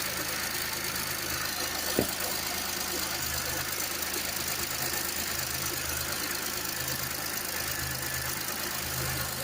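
The 3.8 L V6 of a 2008 Buick Lacrosse CX idles in a steady, even drone just after fuel injectors were replaced, with a small click early on and someone talking faintly over it.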